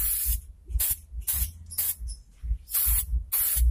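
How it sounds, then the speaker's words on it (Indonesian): An aerosol can of PP plastic primer is sprayed in six short, loud hissing bursts with brief pauses between them, close to the listener. "PP primer sekarang sudah ada model semprot ini ya"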